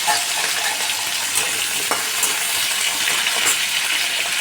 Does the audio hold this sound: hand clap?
no